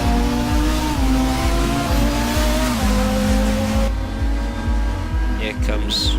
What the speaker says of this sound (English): Here comes one of the Ford racing drivers and another one.